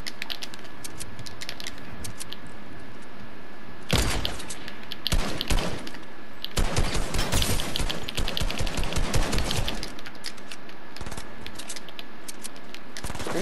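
Gunfire in Fortnite Chapter 2 Season 1 comes in rapid bursts of shots, with two loud volleys in the middle and lighter crackling before and after. Keyboard clatter runs through the whole stretch.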